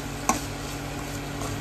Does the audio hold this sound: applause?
no